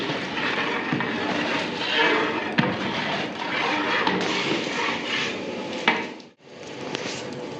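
Continuous bubbling and clattering from a pot of boiling mutton biryani being stirred, with occasional knocks of a utensil against metal, close and fairly loud.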